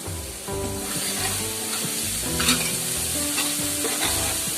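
Chili masala frying and being stirred into ginger-garlic paste for a chicken masala, a steady close sizzle with scraping stir strokes throughout, no voices.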